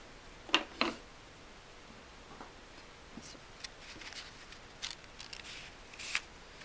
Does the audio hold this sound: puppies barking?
no